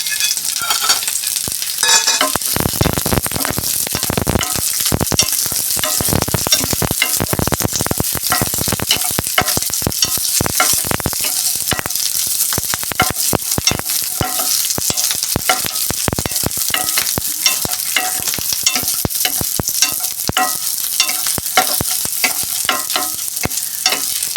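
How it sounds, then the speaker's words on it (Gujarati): Onions fry for misal, a loud, continuous sizzle in a hot pan broken by steady scraping and clacking as a spoon stirs them, close by and without talk. "એમાં આપણે ડુંગળી એડ કરશું આપણે."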